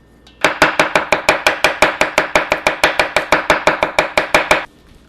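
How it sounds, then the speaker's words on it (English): Rapid, steady knife chops on a cutting board as shrimp are minced for kimchi, about two dozen crisp even strokes close up, with no talking. "And then we are going to chop this up."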